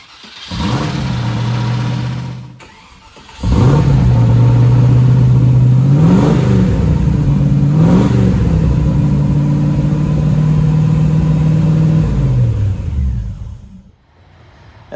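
A Land Rover Discovery off-roader engine cold-starts after a short crank and pause, then settles into a loud, close idle with two quick revs rising and falling before running steadily and shutting off near the end.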